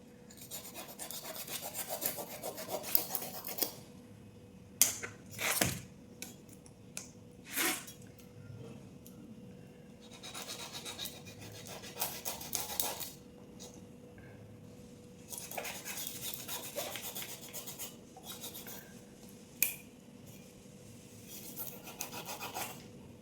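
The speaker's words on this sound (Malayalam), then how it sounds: "ആദ്യം നമുക്കിതിൻ്റെ ഈ ചെറിയ ചിറകുകളൊക്കെ ഒന്ന് കട്ട് ചെയ്യും." Knife scraping and rasping as small fins are trimmed from a para fish, quiet intermittent cuts with a few sharper knocks against the board, close by and without talk.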